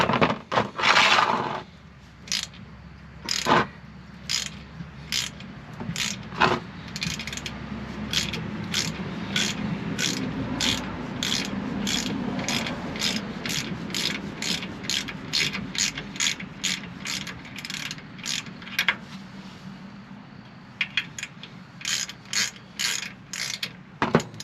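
Ratchet working on bolts of a Ford F150 rear differential cover: rapid clicking pawl strokes in repeated bursts throughout, close and crisp, over a low background rumble with no talk.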